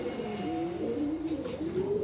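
A pair of pigeons coo close by, a male and a female kept as a show pair at a pigeon club, their soft warbling calls rising and falling continuously with no talking over them.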